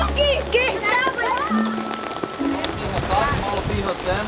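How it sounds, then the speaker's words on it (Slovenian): Heavy storm rain pours in a continuous rush beneath almost constant talking by several voices, with gusts adding to the noise. "Sej bi dal izjavo, ampak se me ne bo slišal, ker je prehudo neurje."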